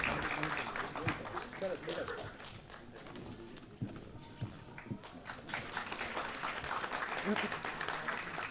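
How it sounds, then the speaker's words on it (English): An audience at a healthcare industry and academia summit claps in a loose, uneven round of applause that rises and thins, with voices talking over it. "A big round of applause."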